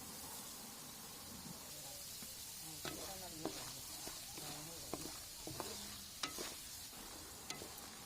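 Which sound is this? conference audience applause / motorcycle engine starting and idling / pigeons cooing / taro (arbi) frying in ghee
taro (arbi) frying in ghee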